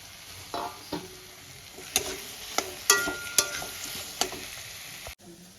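Potatoes sautéed with spice paste in a pan, giving a steady low sizzle broken by several sharp scraping stirs and utensil clinks, close up with no voices.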